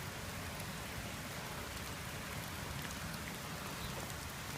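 Steady spring rain falls on a North Texas rain garden, a dense, even hiss of drops on the ground and foliage that stays loud and unbroken throughout.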